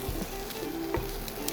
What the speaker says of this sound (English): Now, you saw that sizzling,